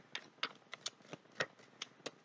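Tarot cards being shuffled, a quiet series of crisp riffling clicks and taps at an uneven rhythm, close and faint.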